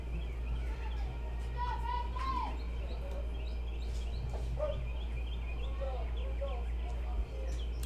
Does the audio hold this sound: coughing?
no